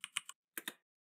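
Someone types a pip install command on a computer keyboard. There are two quick bursts of crisp key clicks, three then two, separated by a short pause. The keys are close and fairly quiet, with no other sound.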